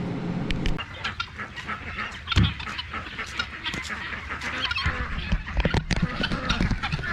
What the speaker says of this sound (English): there's another rooster has ended up in here, so one's being chased around